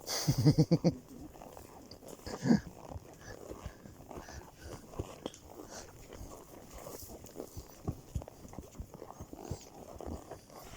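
Horses walk along with hooves clip-clopping in an irregular, fairly quiet rhythm. A dog barks in a short burst early on, with a softer bark a little later.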